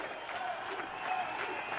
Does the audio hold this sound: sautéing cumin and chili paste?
no